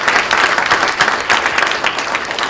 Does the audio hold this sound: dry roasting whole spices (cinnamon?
no